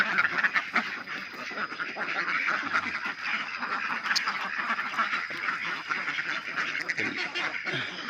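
Many ducks quack continuously nearby, a dense overlapping chorus of nasal calls that keeps going without pause.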